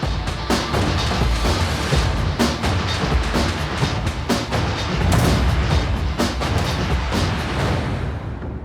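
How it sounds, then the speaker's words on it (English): Heavy repeated thuds of a forging press or power hammer shaping a hot steel axe blade with a top tool and fullering dies, dense and loud with steady clanging impacts throughout, no talking. "He's then going to use several different dies, both a top tool and fullering dies, to pull the material out top and bottom to get the desired width."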